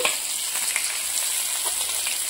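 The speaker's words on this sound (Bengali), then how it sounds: "মাছ ভাজা তেলে বসিয়ে দিয়েছি।" Fish frying in hot oil, a dense, steady crackling sizzle that holds evenly throughout, close and fairly loud with no voices.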